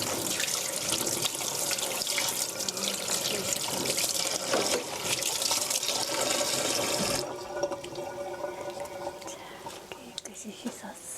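Tap water runs steadily into a kitchen sink while an ingredient for mapo tofu is rinsed, a loud continuous splashing stream that softens and thins after about seven seconds.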